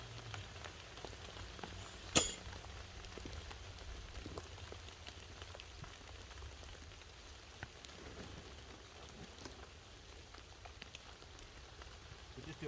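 Rain patters softly and steadily on a tent fly in a forest during wild camping, quiet and even, with one brief sharp knock early on.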